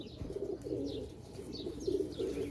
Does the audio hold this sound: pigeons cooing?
yes